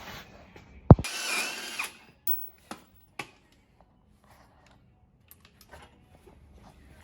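A power tool works on the leaf spring U-bolts of a 1994 OBS truck in one short, loud burst of about a second, followed by a few sharp metallic clicks and knocks in near silence.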